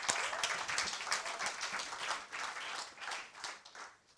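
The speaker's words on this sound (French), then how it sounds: "Tu t'applaudis tout d'abord toi-même." A church congregation applauds during a sermon, with dense, continuous clapping from many hands that swells and then thins out toward the end.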